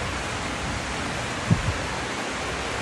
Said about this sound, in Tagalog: Super duper ang ulan.